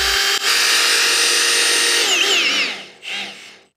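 A power drill drives a screw into the wooden structure of a bioclimatic garden pergola, whining loudly and steadily up close, then slowing in pitch and stopping, followed by a short second burst.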